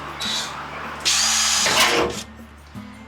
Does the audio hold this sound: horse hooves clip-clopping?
no